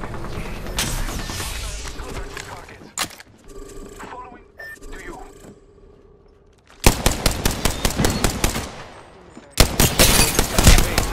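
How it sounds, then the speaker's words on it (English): Automatic gunfire in the video game Apex Legends during a ranked match, with rapid bursts of shots, a quieter stretch, then two loud sustained volleys close by, while game voices talk over the action. "I'm taking fire."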